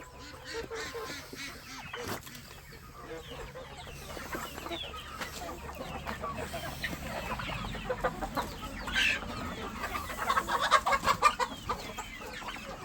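Rooster and hens on a homestead, clucking and calling in scattered bursts at moderate distance, growing busier and louder toward the end over a steady outdoor background.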